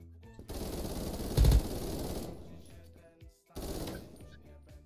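Rapid automatic gunfire from the online first-person shooter Krunker, a loud burst peaking in the middle and then tapering, with a short pause before another volley of shots resumes.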